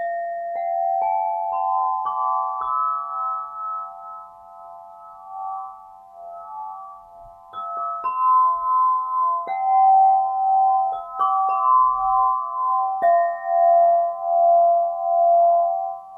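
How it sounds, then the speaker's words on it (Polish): A small crystal harp plays pure, glassy ringing tones slowly one after another, each note sustaining and overlapping in a soft, ethereal melody. "Harfa to cudowny instrument, który ma takie anielskie brzmienia"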